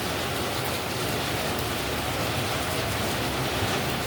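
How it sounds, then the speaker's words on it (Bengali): Heavy rain pours down outdoors as a dense, even roar of falling water that holds steady and loud throughout, with no voices. "আর বাইরে দেখো মস্ত অল ধরনের বৃষ্টি হচ্ছে, একদম পুরো অন্ধকার হয়ে গেছে, পুরো বৃষ্টিই হচ্ছে আর এখন।"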